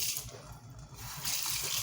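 Cold water runs steadily from a sink faucet, a soft continuous hiss with slight fluctuations, close by and alone without talk.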